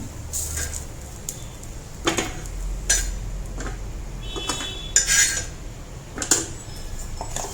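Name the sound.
dosa being moved onto a plate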